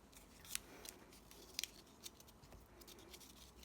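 Scissors snip and trim excess pattern paper wrapped around a box during a camera box craft, giving a few quiet, sharp cuts with small paper rustles between them.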